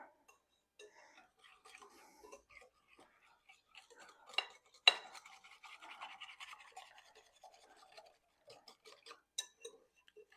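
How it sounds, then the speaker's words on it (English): Whisking batter with cinnamon in a bowl, producing quiet, rapid clinking and tapping of a whisk against the bowl in uneven bursts, close and faint. "I'm going to give this another whisk."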